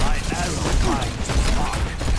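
Rapid gunfire from an Overwatch 2 match, a dense stream of shots and game effects running steadily throughout, with a player's voice talking over it.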